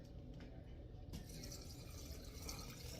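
Turkey gravy poured into a glass canning jar, a soft continuous liquid fill with faint splashing and a slight change partway through, quiet and close.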